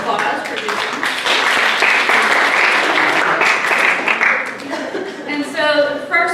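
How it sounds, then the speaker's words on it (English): A room at a chamber of commerce networking event breaks into a sustained round of applause, dense and steady, fading near the end as a voice starts to speak. "I think we give her a round of applause for doing it."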